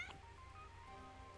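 An orange cat in the video game Rain Code gives a short meow at the start, then faint tonal game ambience carries on quietly underneath.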